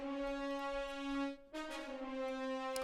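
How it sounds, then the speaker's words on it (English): A six-horn melody track playing back in an orchestral mix: sustained brass chords that hold steady, then shift to a new chord partway through, full and close with no talking. "I'm going to choose my first track, my 6 horns."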